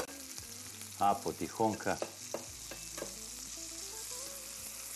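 Trout frying in a pan with ginger and vegetables gives a steady close sizzle, broken by a few louder scraping and clattering moments as it is turned with a spatula. A voice speaks briefly.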